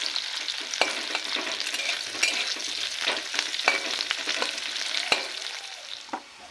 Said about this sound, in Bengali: কড়াতে করে এক চামচের মতো তেল দেবো তার মধ্যে পেঁয়াজ কুচিগুলো দিয়ে দিলাম